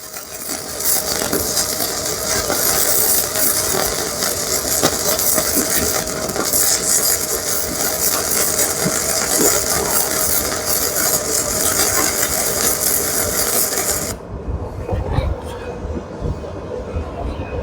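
A Sefaspe Mig135E flux core welder lays a stitched bead, producing a dense continuous crackling hiss and sizzle at close range that cuts off sharply near the end, leaving quieter background.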